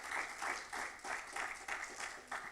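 A small audience at a college accounting and business club meeting applauds a guest speaker, with clapping swelling in short, uneven bursts across a few seconds.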